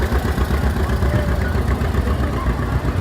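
A Ford 9N or 8N tractor engine runs steadily in a homecoming parade in Ione, a continuous low rumble with nobody speaking over it.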